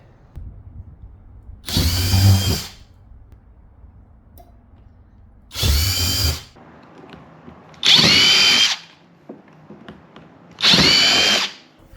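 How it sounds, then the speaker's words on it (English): A power drill with a 5/16 bit whirs in four short bursts, each about a second long, separated by quiet pauses, close and loud. "I'm going to get my 5/16 drill bit. I'm drilling in."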